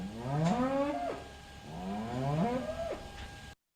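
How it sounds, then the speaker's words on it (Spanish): A cow bellows two long, loud moos in a row, each rising then falling, recorded up close with no other sounds. "bueno, vaca mugiendo"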